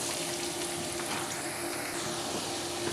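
Whole cumin seeds frying in hot oil in a pan for Lahori murgh chana, giving a steady, even sizzle with a faint tonal hum behind it and no talk.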